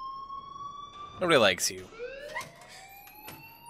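An alarm in the video game Life Is Strange, a steady electronic tone with rising pitch sweeps, sounding continuously while a voice speaks over it.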